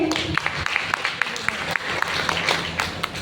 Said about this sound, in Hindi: एक बार पहले जोरदार तालियां इनके लिए